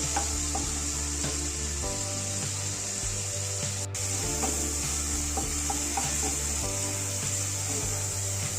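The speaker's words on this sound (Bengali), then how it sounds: "আস্তে করে ভেজে নেব" Prawns with mustard oil, salt and turmeric frying gently in a kadai, a soft steady sizzle under periodic wooden spatula rubs and scrapes, close and fairly quiet, no speech.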